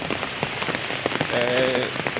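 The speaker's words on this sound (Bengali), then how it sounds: "প্রচুর বৃষ্টি 5টা থেকে" Heavy rain pours over Dhaka during a cyclone, a dense, steady patter on surfaces close by, while a faint voice and a brief tonal hum sit beneath the downpour.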